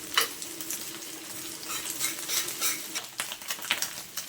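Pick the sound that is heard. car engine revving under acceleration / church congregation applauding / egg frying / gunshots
egg frying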